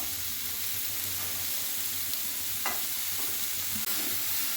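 Jaggery being stirred into amla pickle in a pan, a steady soft sizzle and hiss with occasional faint scraping of the spoon, close and continuous, with no talking.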